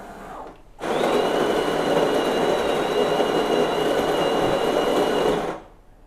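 A coffee machine brews coffee in a home kitchen, giving a steady, loud hissing rush that starts abruptly, holds for several seconds, then cuts off, with no one talking.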